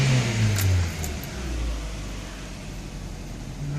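2002 Ford Focus 1.6 petrol engine with LPG revving up, a short rise in engine note then settling back to a steady idle hum, close and moderately loud.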